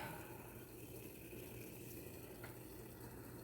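Water dripping and trickling from a pan during home water distillation, heard as a steady, continuous watery hiss with no voices.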